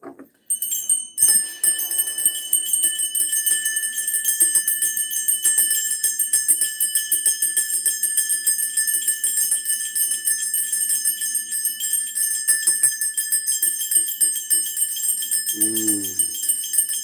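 Bright bells ring and shimmer continuously, a sustained metallic tinkling chorus that lingers throughout, with a brief murmur of voice near the end.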